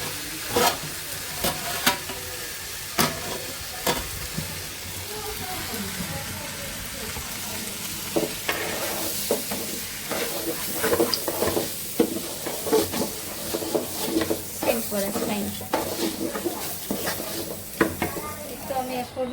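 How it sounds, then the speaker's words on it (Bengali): Rice frying in a pan with meat, crackling sizzle broken by repeated sharp scrapes and knocks of stirring, with intermittent talk in the background. "ভাজা হোক চালটা"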